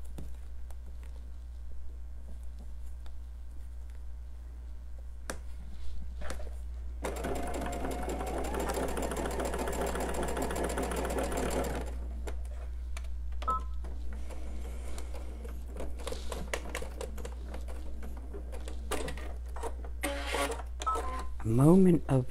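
A sewing machine stitches a quilt seam in one clear run of rapid stitching lasting about five seconds, close and moderately loud, with quieter handling sounds and a steady low hum before and after.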